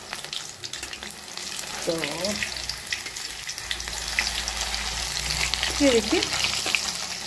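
Banana flower pakoras frying in a pan of oil on a medium flame, a steady soft sizzle running throughout with a brief voice speaking over it near the start.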